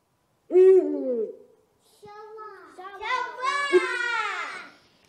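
A human voice, seemingly a child's, imitates an owl with a couple of drawn-out, wavering hoots, loud and close in a quiet room.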